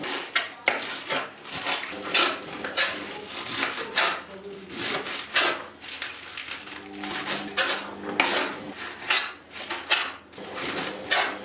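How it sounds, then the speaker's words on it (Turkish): A knife chops rapidly and unevenly on a cutting board, with quick close-up thuds coming in bursts as leeks are sliced. "Şimdi sırada bütün bu pırasaları doğramak var."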